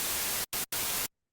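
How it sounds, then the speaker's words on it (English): White noise generated in Ableton Live, a loud, steady full-band hiss played alone in three bursts separated by two brief gaps, then cutting to silence. "maybe just for the sake of argument, I use white noise."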